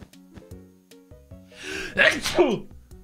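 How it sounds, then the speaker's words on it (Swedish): A person sneezes loudly once near the middle, a sharp broadband burst against a quiet background of steady tones and a few clicks, as if recorded while playing a Minecraft Build Battle match on Hypixel. "Nu ska jag nysa."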